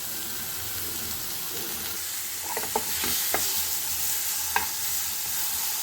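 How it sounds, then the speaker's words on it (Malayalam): Two tomatoes fry gently in a little oil for chutney, a soft continuous sizzle with a few light clicks and taps from stirring, heard close with no voices. "അതിന് ശേഷം നമുക്ക് 2 തക്കാളി ഒന്ന് പൊരിച്ചെടുക്കാം. കുറച്ച് എണ്ണ ഒഴിച്ചാൽ മതി കേട്ടോ."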